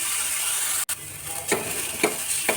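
Onions roast in a pan for masala pumpkin raita, a steady close sizzle with a few scraping stirs repeating every half second or so.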